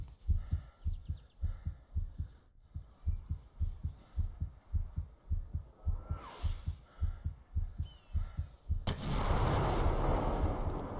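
Incoming mortar rounds pound in Arma as a steady run of heavy, low thumps keeps landing one after another. A loud, broad rushing blast then takes over near the end.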